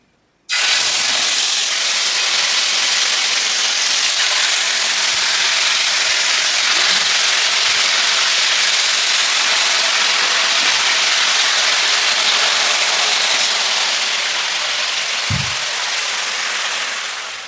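Marinated chicken pieces for Afghani chicken fry on a hot tawa, giving a steady, loud sizzling hiss that holds for the whole stretch and fades slightly toward the end, with a couple of faint clinks.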